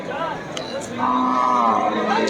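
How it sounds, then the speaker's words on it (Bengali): Cattle at the Deuhata cow market, including pregnant cows, give a long, loud moo over a murmuring outdoor crowd, with fainter lowing from other animals nearby. "দেখুন এই যে পাশে অনেক গরু দেখতে পাচ্ছি"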